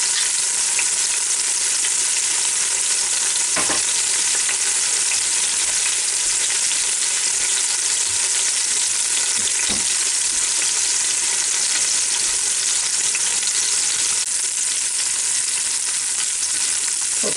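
Pot roast sears in hot oil inside an Instant Pot, giving a loud, steady sizzle that runs unbroken throughout, with a few brief knocks as the meat is turned and no voices.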